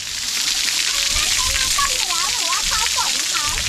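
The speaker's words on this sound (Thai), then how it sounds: "น้ำตกธรรมชาติ" A natural waterfall near Naga Cave in Bueng Kan, Thailand, gives a constant loud rush of falling water, with faint voices mixed in.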